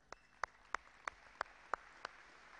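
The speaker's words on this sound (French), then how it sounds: "Ok, on peut les applaudir." A handful of claps after a basketball drill, about seven sharp, evenly spaced hand claps in a row, fairly quiet and echoing in an indoor gym.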